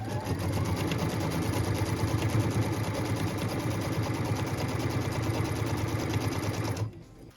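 An embroidery sewing machine stitching cut lines through quilt block pieces in a hoop, running as one fast, even, close mechanical buzz for about seven seconds before stopping abruptly.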